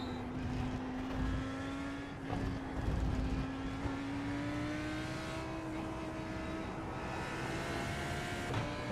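A Lamborghini race car in a racing video game at Spa roars steadily on a rising, sustained engine note that climbs through the gears, loud and close, with no talk over it.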